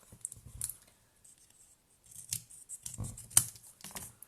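Scissors trim ribbon for a handmade bow, with a few close, crisp snips and a pause of near silence between them.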